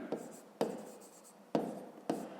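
Pen strokes on paper while working a fifth-grade math exercise, four sharp scratchy bursts at uneven intervals, close and fairly quiet, with no voices.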